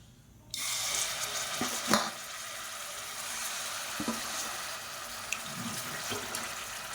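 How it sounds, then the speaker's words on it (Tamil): Marinated chicken pieces dropped into hot oil in a pressure cooker, setting off a steady loud sizzle that starts abruptly and runs throughout, with a few clinks and stirring knocks. "எண்ணெய் நல்லா சூடானதும் நம்ம ஊற வச்சு வச்சுருக்கிற இந்த சிக்கனை அப்படியே சேர்த்துக்கலாம்"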